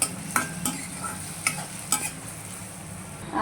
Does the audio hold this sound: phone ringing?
no